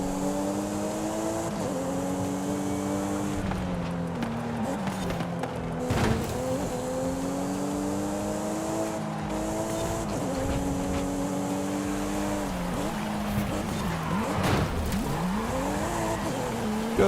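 A Toyota Supra racing in the video game Forza Horizon 5: a sustained, shifting engine whine through gear changes, with tire squeal and skidding on turns, loud and continuous, with no talk.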